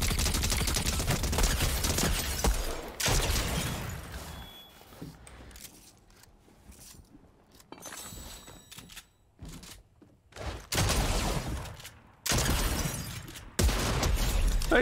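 Bursts of gunfire from a weapon in Fortnite's No Building mode, loud clusters of shots separated by quieter gaps, with sharp impacts and clatter scattered through the action.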